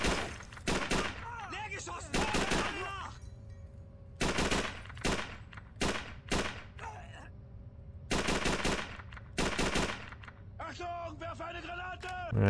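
Bursts of rapid gunfire from Call of Duty 3 crackle in repeated volleys, loud and close, with a player talking in between.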